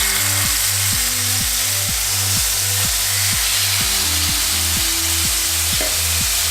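A fish fillet sears in hot oil in a pan, giving a steady, close sizzle that holds throughout, with rhythmic background music running underneath.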